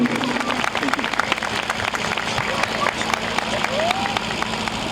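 Crowd applause fills a Christmas celebration hall, a dense steady wash of clapping mixed with chatter and babble throughout.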